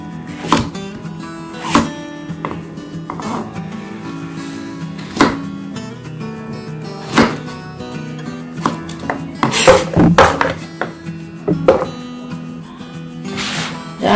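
Knife cutting through white radish on a board, sharp repeated chops at an uneven pace over a music bed, close and fairly loud.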